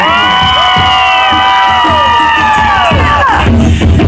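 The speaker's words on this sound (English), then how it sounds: "everybody over here, let's see the guitar side. Let me hear you cheer" A packed concert audience at a steampunk expo roars for the band, sustaining loud cheering with high whoops and shouted voices for several seconds before the noise breaks up.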